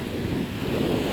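Ocean waves wash onto the shore at a dog beach, a steady broadband rush of surf mixed with wind noise on the microphone, continuous and fairly close with no talking.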